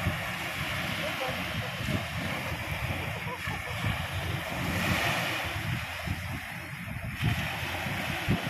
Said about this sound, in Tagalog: super ganda ng alon.